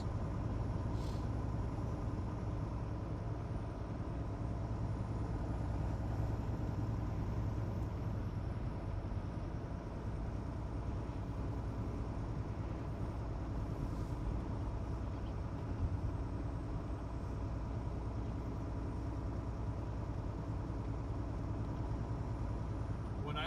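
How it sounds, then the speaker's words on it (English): A car engine running steadily while driving, a continuous low rumble and road noise throughout with no clear changes, heard from inside the vehicle. "the ASMR aspect of just the engine running and the squeaks and the creaks and the bumps when you hit those."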